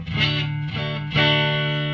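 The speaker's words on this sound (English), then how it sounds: "So that's the clean sound." An electric guitar plays through a Marshall DL5C amp with a clean tone: a few ringing, sustained chords and notes, close and fairly loud, with no talking.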